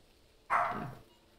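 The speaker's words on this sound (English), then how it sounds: "why is the dog barking" A single dog bark in The Walking Dead video game, one short loud yelp-like burst standing alone with no talk over it.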